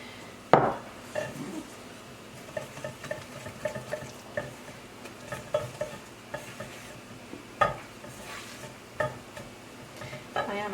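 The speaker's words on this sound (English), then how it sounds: "I've kind of made a little well in the middle of my bowl and I'm now mixing it in" A spoon works through pizza dough in a bowl, giving steady scraping and clacking with occasional sharper knocks against the sides, close and alone.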